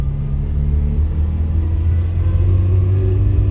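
A small two-stroke car engine idles close by, a steady low buzzing rumble with a slightly uneven, rattly pulse and no voices.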